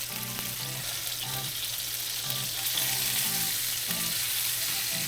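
Salmon frying in a pan gives a constant close sizzle with a low background hum and a few faint clinks, steady and moderately quiet throughout, without talk.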